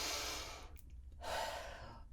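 A deep breath taken on a podcast, close to the microphone: a long, breathy inhale, a brief pause, then a fuller airy exhale, fairly soft and with no talk over it.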